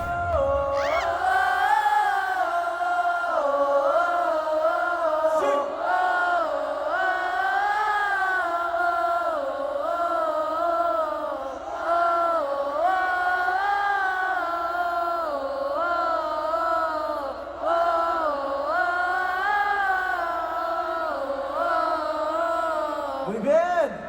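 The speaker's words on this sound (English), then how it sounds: "Chen and the crowd singing after the song ended was another one of my favorite" A large concert crowd at the dominATE Tour in Mexico City sings together after a song ends, with loud, sustained massed voices rising and falling alongside scattered cheers.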